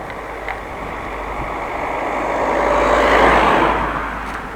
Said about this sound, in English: Let's move over to give the car a little bit of room.